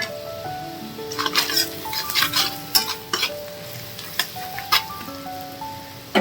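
Spice mix stirred into onions frying in a pan, with a soft sizzle under repeated spoon scrapes and metallic clinks against the pan, while a faint melodic tone plays in the background.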